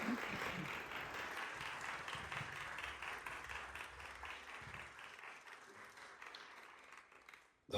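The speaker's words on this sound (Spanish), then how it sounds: "Y les pido un fuerte aplauso para ellos" An audience at a Spanish-language panel discussion breaks into loud, sustained applause, with dense overlapping claps that slowly thin out and fade near the end.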